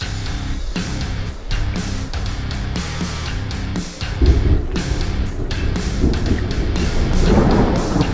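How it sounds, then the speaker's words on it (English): Rolling thunder with rain and gusting wind in a stormy American Truck Simulator game scene, a steady loud rumble that swells heavier in the second half with no voices. "Thunder, like you've never imagined."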